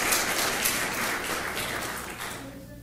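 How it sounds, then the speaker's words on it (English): A general meeting audience gives the board a steady round of applause, a dense wash of clapping that holds nearly even for about three seconds before easing slightly at the end. "let's give a round to the board, a round of applause, and to yourselves"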